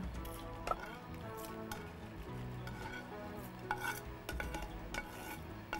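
Rice sundal upma with its tempering being stirred in a pan, a busy run of scraping spoon strokes and soft clinks over a faint sizzle, fairly close and continuous without speech.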